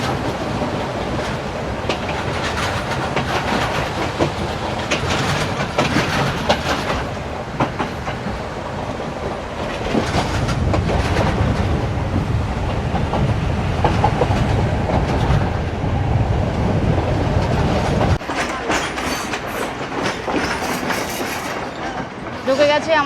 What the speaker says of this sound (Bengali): পুরো সমুদ্রের পাশ দিয়ে দিয়ে ট্রেন যাচ্ছে, পুরো লাইনটাই এরকম কোস্টাল লাইন,